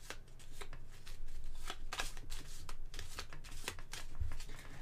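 Catastrophe cards for the Doomlings board game being shuffled by hand, a quiet close series of crisp riffling bursts and soft card snaps at an uneven rhythm, with no voices.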